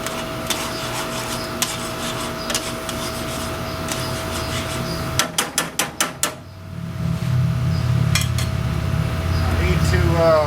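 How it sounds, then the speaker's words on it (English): Cheese is stirred into vegetables in a pan over coals, with scraping and a quick run of five sharp metallic clacks from the utensil against the pan, set against a steady background hum and sizzle. "Stir this cheese in."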